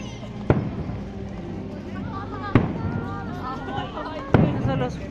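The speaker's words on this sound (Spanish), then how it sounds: "¡Ah, están los fireworks!" Fireworks bursting at Tokyo Disney, with three sharp booming blasts spaced a couple of seconds apart, each followed by crackling decay, over a bed of crowd noise and nearby voices talking.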